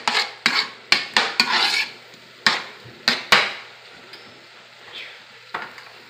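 Rice and vegetables being stirred in a cooking pot, with a series of sharp utensil knocks and scrapes against the pot in the first few seconds, then fewer, quieter taps over a soft background hiss.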